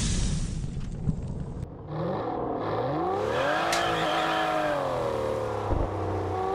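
The Ashton car with an electric exhaust in Test Drive Unlimited Solar Crown revs up loudly and close, its tone climbing and falling through a sustained run after a brief whooshing start.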